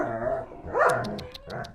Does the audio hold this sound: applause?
no